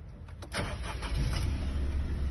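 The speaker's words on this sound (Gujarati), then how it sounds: "ગાડી ચાલુ થઈ ગઈ છે," A 2014 Maruti Celerio VXI petrol hatchback with 42,000 km cranks briefly and fires up, then settles into a steady low idle rumble close by, with no talk.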